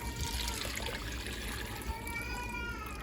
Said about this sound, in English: We are gonna add some beef broth.